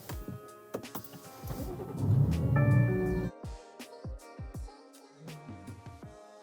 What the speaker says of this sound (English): I'm gonna start the car, roll the gears a little bit to circulate some of that oil